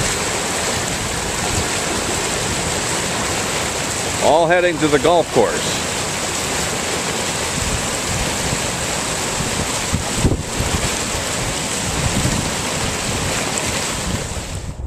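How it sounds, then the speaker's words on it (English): Floodwater shooting through a culvert near a golf course and water plant after heavy April rain, a steady broadband rush like surf that runs through the whole stretch, with wind buffeting the microphone and a brief voice midway. "you can see there's a fair amount of water shooting through right now."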